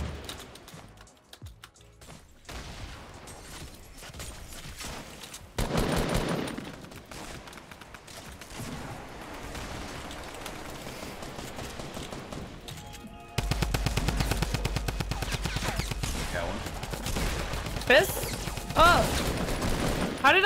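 Rifle shots and bursts of gunfire in Fortnite: Battle Royale, a few sharp cracks at first, then denser, louder firing in the last stretch, with players talking over it.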